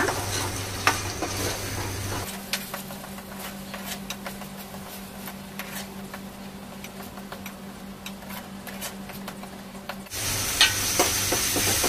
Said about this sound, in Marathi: आता याच्यामध्ये टमाट्याची ग्रेव्ही टाकूया आणि चांगली परतूया. तेल सुटेपर्यंत.